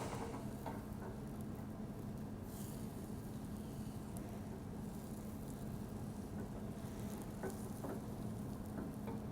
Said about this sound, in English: So I can already start taking my egg that's cooking on the sides, pulling it towards the center.